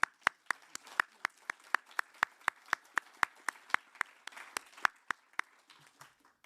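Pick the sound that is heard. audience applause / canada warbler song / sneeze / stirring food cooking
audience applause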